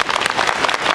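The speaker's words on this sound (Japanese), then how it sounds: "一度これくらいのお客様でどれくらいの拍手が聞こえるか確かめてみたいと思います" Crowd at a Nagasaki Lantern Festival Chinese acrobatics plate-spinning show applauding outdoors, a brief dense wash of clapping at moderate volume.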